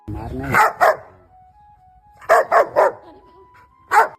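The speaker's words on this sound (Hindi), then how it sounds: "वो अपने पुराने मालिक पर जोर जोर से भौंकने लग जाता है" A dog barks in two bursts, a single sharp bark followed by a quick run of three, then one more bark, loud and close with quiet gaps between.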